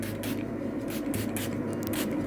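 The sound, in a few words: setting spray being misted onto face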